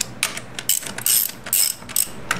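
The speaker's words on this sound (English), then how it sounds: "We'll take these up to snug first with a ratchet." Ratchet snugging the final drive bolts on a 2002 BMW K1200RS motorcycle, heard as several short bursts of close, crisp pawl clicking separated by brief pauses.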